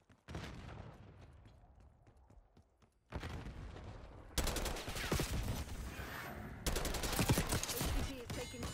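Fairly faint rapid gunfire in Call of Duty Black Ops 6 Kill Order mode: scattered shots at first, then denser volleys that build in intensity.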